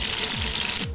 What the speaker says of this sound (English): he just introduced the flat iron right into that hot pan